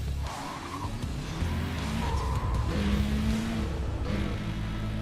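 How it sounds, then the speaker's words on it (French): A car engine in the racing video game Need for Speed World drones and revs with tire squeal and skidding, a steady game soundtrack of moderate level with no talk. "Ma voiture, elle fait un assez beau bruit encore"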